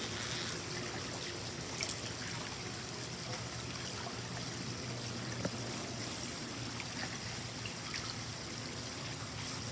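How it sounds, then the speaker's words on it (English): Water trickles and gurgles steadily from a pool vacuum hose held under the pool surface, a faint continuous flow with small splashes. "Until you get water coming out"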